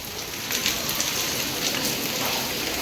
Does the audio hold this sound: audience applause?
no